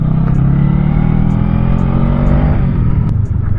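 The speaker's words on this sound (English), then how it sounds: "The exhaust, it's tuned very nicely here on this one." A Honda Rebel 500 with its 500 cc parallel-twin engine revs through a nicely tuned exhaust, a loud, close, steady rumbling drone that swells and holds for several seconds with no talking.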